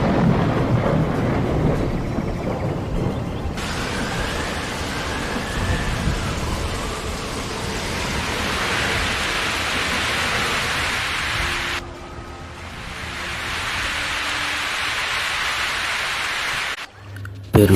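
Heavy monsoon rain pours steadily over rolling thunder in the hills of Munnar, with a loud dense hiss throughout, deep rumbles early on, and a sudden drop and change in texture partway through before a final crack.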